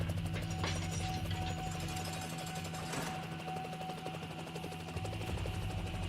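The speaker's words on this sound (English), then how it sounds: "The helicopter carrying the injured members of Team R slowly takes off." A helicopter taking off in the video game Girls' Frontline, a loud, steady rhythmic rotor chop over a droning engine hum that runs continuously.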